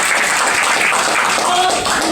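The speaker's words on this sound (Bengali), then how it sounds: "তো সেই গুরুর জন্য আগে একটা ক্ল্যাপিং হয়ে যায়।" An audience claps for a philosophy-teacher mentor at a talk, with dense, steady applause filling the whole stretch at close range and no clear pauses.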